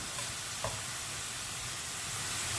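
A steady, hissing sizzle of pork mince frying in a pan for spaghetti bolognese fills the clip, constant and moderately quiet with a faint clink early on.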